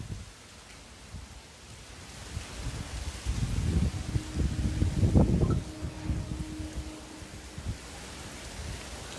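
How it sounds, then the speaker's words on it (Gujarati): Pouring rain driven by heavy wind during Cyclone Biparjoy in Vidyanagar makes a steady wash of rainfall. Low gusting rumbles swell midway and then ease back, with no one speaking. "ભારે પવનની સાથે અત્યારે વરસાદ પણ ધોધમાર પડી રહ્યો છે"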